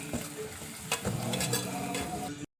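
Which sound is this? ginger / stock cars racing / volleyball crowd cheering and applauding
ginger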